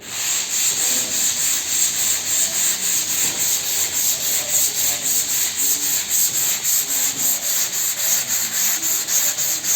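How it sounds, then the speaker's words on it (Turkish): Steady rhythmic rasping of a flat sanding block rubbed back and forth by hand over car body filler, close and continuous, with no talking. "Şimdi takoz atıyoruz."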